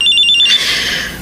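A cellphone ringtone trills loudly in short repeated pulses for about half a second, then cuts off into a lingering hiss.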